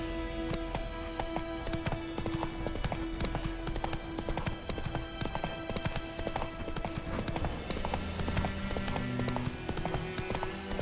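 Roach, the horse in the Witcher 3 video game, gallops with a fast, steady clip-clop of hooves that carries on throughout, close and fairly loud over a faint game ambience.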